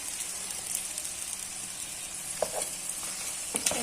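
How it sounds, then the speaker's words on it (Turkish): Chopped peppers are stirred into beef frying in a pan for a creamy meat sauté: a steady close sizzle runs throughout, with a few brief scraping stirs near the end and no voices. "3 adet doğramış olduğumuz biberlerimizi ilave edip karıştıralım"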